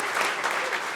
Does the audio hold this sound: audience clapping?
yes